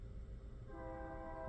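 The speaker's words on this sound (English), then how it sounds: "there is a train coming" A train approaches from the opposite direction, its horn sounding as sustained steady tones over a continuous low rumble of rolling wheels, growing steadily louder without any talk.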